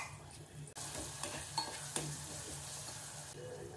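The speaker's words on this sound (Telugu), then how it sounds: "ఇలా ఫ్రై అయిన తర్వాత టొమాటోస్ యాడ్ చేసుకుందాం, 1/2 స్పూన్ అల్లం వెల్లుల్లి." Tomatoes with ginger garlic paste fry in a pan, giving a steady, close sizzle with a few light clinks of a utensil and no talk.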